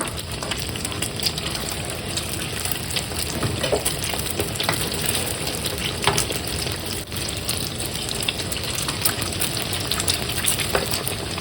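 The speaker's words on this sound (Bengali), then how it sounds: "আমার সমোসা ফ্রাই করা হয়ে গেছে" Samosas filled with chicken and potato deep-frying in hot oil, a steady dense bubbling sizzle with faint crackles, continuous and fairly close with no talking.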